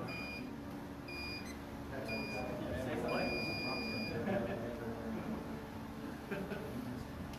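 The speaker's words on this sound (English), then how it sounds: "listen to the beeps" Short electronic beeps, evenly spaced, signal the start of play in an overtime veterans' final at a national roller hockey championship, sitting over a busy arena murmur and nearby voices.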